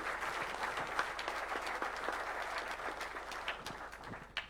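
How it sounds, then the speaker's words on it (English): Applause from an investors' forum audience after a panel, dense continuous clapping from a large crowd in a hall, moderately loud and unbroken, with a few sharper individual claps standing out. "Please, let's put our hands together for a round of applause."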